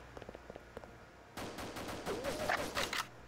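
Gunfire in the Deus Ex video game aimed at the player: a few faint isolated shots, then a dense, loud burst of rapid automatic fire continuing to the end.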